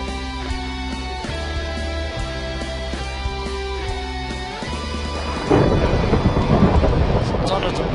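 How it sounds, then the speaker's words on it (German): A Minecraft thunderstorm plays under steady in-game music: a loud crackling thunder crash bursts in after about five seconds and rumbles on to the end. "Donnerblitze!"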